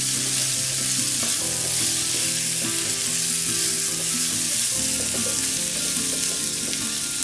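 Bitter gourd fries in a pan on a low flame while it is stirred, giving a steady, close sizzle with scraping stirs running through, and no voices.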